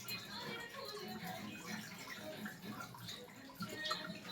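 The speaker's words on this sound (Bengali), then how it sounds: "তো এখন এটা আমি ধুয়ে নিচ্ছি।" Food being washed under running water while a Bengali home cook prepares ingredients for pakoras and chilli chicken; a steady splashing and trickling stream runs throughout, mid-distance and moderately loud, with faint voices in the background.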